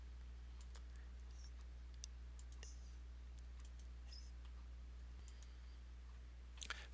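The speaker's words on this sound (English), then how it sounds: "I'm going to do a right click" A computer mouse gives several light, sharp clicks spread across the stretch, faint and close, over a steady low hum with no talking.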